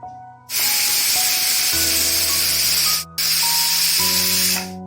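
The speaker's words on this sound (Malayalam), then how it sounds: "നമുക്കിതൊരു രണ്ട് ഫിസിൽ കേൾക്കുന്നവരെ നമുക്കൊന്ന് വേവിച്ചെടുക്കാം" A pressure cooker on a lit gas stove, cooking a Kerala sambar, lets off two loud, sustained hissing steam whistles with a faint tone, separated by a brief break.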